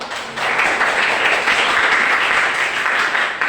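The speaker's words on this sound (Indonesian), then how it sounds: "Terima kasih tepuk tangan dulu." A classroom audience breaks into applause, a dense, loud wash of clapping that rises quickly and holds steady.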